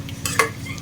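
Egg gravy with grated egg and coriander leaves being stirred in a pan, a brief scrape of a spoon over a soft sizzle, close and alone.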